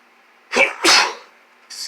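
A person sneezes twice in quick succession, close and loud, with a third sneeze starting at the end, and no talking.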